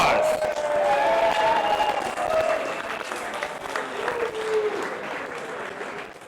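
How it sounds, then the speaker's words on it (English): Loud crowd applause with cheering fills a fight-night arena after a lightweight main-event bout, steady and dense throughout, with faint voices and whistles rising inside the clapping. "Let's give these boys a round of applause."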